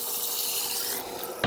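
Splash of liquid poured into a methanol and water mix made with VP Racing M5 methanol, a steady trickling pour that runs for over a second before ending in a brief louder splash.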